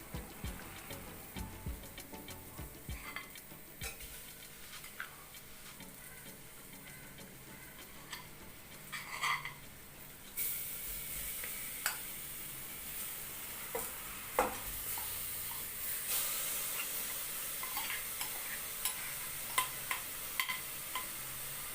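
Marinated mutton pieces with lemon juice, chilli and coriander powder hitting a hot pan for pepper roast, a steady sizzle with scattered stirring clicks and scrapes, growing louder and fuller partway through, no talk.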